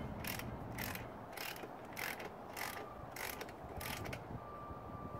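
Torque wrench tightening a motorcycle wheel axle, giving a quick series of about eight light ratcheting clicks at a steady rhythm over a soft background hiss.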